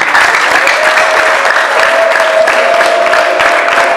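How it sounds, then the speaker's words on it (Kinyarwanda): Loud, sustained applause from a church congregation praising God at the ADEPR Mbandazi anniversary celebration with the Horeb choir, thick continuous clapping filling the whole stretch with a faint tone running beneath. "ariko muracyafite amaboko ngo mukomere imana amashyi"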